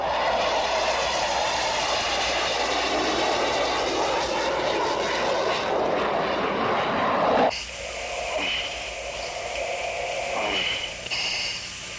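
An F/A-18 fighter jet passing overhead gives a loud, sustained roaring engine rush for about seven seconds, then drops abruptly to a thinner, fading whine with a lingering hiss.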